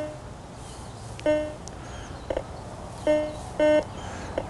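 Over a dime in the ground, a Garrett metal detector gives several short electronic signal tones in quick bursts, clear and close against faint outdoor background noise.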